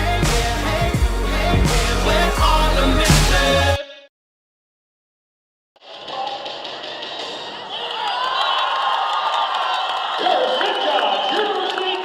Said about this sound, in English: that may have been the second loudest cheer of the day